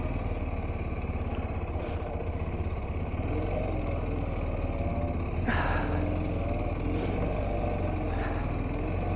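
A Kawasaki motorcycle idles and putters at low speed during U-turn practice, a steady close engine drone with slight rises as gas is fed in, with occasional faint clicks over it.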